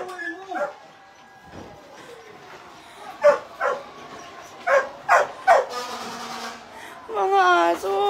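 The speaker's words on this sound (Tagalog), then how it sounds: "Mga aso." Dogs bark in a series of sharp, separate yelps and barks at mid distance, with whimpers between them and people talking anxiously nearby.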